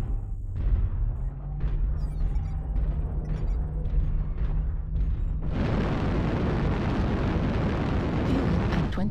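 An incoming missile explodes in the mech combat game MechWarrior Online, a sudden loud blast that turns into a sustained roaring rumble after earlier cockpit noise and small pops.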